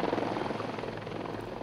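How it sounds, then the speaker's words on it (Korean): A police helicopter hovers over a factory sit-in strike at SsangYong Motor in 2009, giving off a continuous, throbbing rotor drone. The sound is steady and fairly close, with no voices. "상공에서는 경찰 헬기가 최루액을 쏟아부었다"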